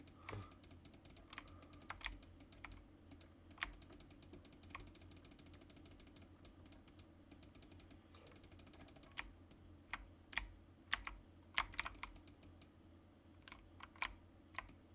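Computer keyboard clacking loudly and unevenly, sparse keystrokes at first then faster clusters of sharp clicks toward the end, over a low steady hum.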